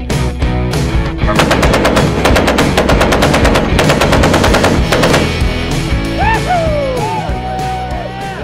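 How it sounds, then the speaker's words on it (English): Machine guns fire in rapid, loud automatic bursts that run for several seconds before stopping, followed by a few whistling, descending tones as the noise fades. "look at these machine guns. Everything here works, fully operational."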